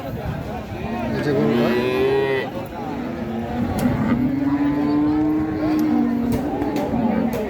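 Cattle low repeatedly at a village cattle market in Keraniganj, with drawn-out moos rising over a busy crowd and people talking nearby.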